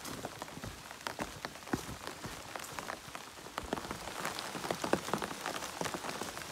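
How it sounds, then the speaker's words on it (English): Rain falls steadily on a trail during a sunny shower, a soft dense patter of drops hitting surfaces nearby, faint and continuous with no talking. "Yep, it's raining for sure."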